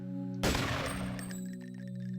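Gunfire in the video game Deus Ex, a sudden loud burst of rapid shots that decays into ringing echoes and a tonal game-audio hum, with no talking over it.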